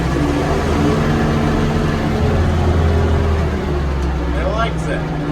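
A combine harvester engine with a carburetor fault, choke pulled out, runs roughly as it is revved. It makes a loud, continuous low drone close by, and a person talks over it.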